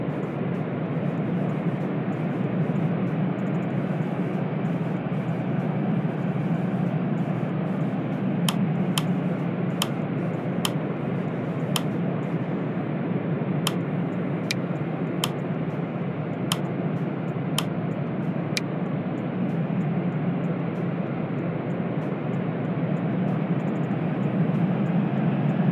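Cebu Pacific Airbus A330-343 jet engines heard from inside the cabin during takeoff, a loud steady broadband roar throughout with a series of faint sharp ticks and clicks in the middle.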